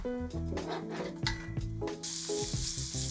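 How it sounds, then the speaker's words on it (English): Bacon hitting simmering butter in a pan, crackling and sizzling steadily, then swelling into a loud, dense hiss near the end, with music-like tones underneath and no talk. "you see how the butter is starting to like simmer? That's what we want. So add our bacon."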